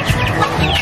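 Chickens cluck close by in a dense, continuous chorus of short, overlapping clucks and murmurs, fairly loud and steady through the brief moment.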